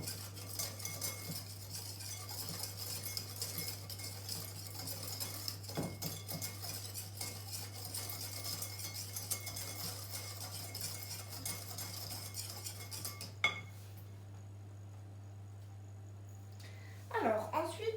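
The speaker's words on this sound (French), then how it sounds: "Et je vais mélanger le sucre et la maïzena." A utensil stirs sugar and cornstarch in a bowl with quiet scraping and light clinks against the sides under a low background hum, followed by a sharper knock and some brief talk at the end.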